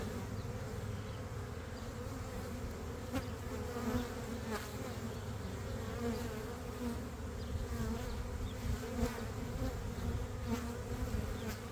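A steady, dense buzzing of a bee swarm close by, continuous and droning with no voices.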